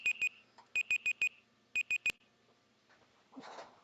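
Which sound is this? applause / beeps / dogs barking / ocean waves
beeps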